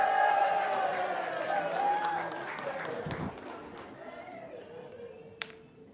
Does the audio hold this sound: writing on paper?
no